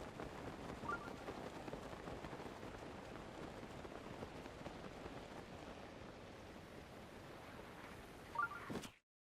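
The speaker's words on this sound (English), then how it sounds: "It's raining pretty hard." Heavy rain during a storm at the Great Plateau Tower in The Legend of Zelda: Breath of the Wild, a steady, even hiss of downpour that stops abruptly at the end.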